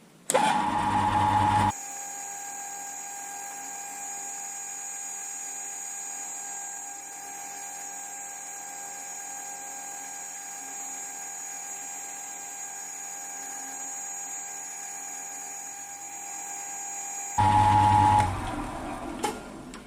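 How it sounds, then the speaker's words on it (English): A steady, high-pitched whine of a drill with a 3 mm bit drilling holes in a machinist clamp part, running continuously for about fifteen seconds, framed by brief louder bursts of workshop noise at start and end. "put the 3 mil drill bit in and drill both the holes"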